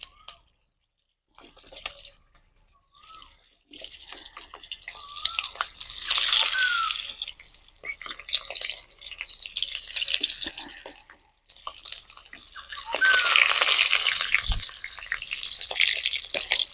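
Raw green tomatoes added to a wok with fried chilies sizzle in waves, with wet bubbling and frying bursts alongside quieter gaps and a few clinks of handling, close up and without speech.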